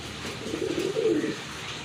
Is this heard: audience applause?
no